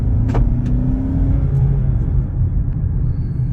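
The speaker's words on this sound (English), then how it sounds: "Give a little gas, see if we hear anything." A Kia Sportage engine pulls steadily while accelerating on a test drive, a continuous low rumble of engine and road noise with a brief rising whine early on, no talking.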